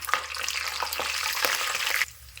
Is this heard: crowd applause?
no